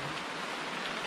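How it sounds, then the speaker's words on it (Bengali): Rain pouring on a hiking trail near a waterfall, a dense steady hiss of falling drops, loud and unbroken for the brief moment. "ভাই বৃষ্টি নেমে গেছে"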